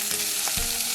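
Chopped onion hits hot oil for a chutney tempering and sizzles steadily, with a sharper burst of frying noise about halfway through as the pieces are stirred. The frying is close and alone, with no voices.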